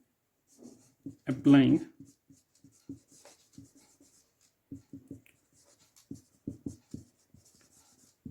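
Chalk or marker scratching on a board during a chemistry lecture comes in short irregular strokes and taps, close and moderately loud, alternating with a teacher's speech.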